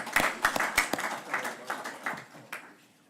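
A few people clapping at a state workforce development board meeting, a short sparse burst of claps that quickly tapers off, fairly faint and alone.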